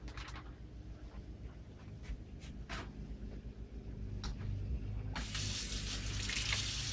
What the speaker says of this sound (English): rinse. We're going to rinse it off really good.